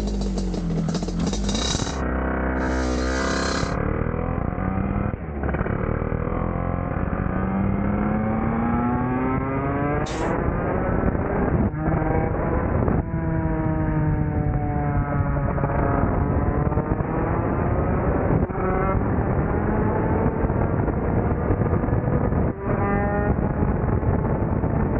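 A Casa Performance 250 twin-cylinder Lambretta scooter on a road test, its engine loud and close, revving up through the gears with rising, falling pitch sweeps, brief gear-change dips and a raw, buzzy exhaust note, with no talking.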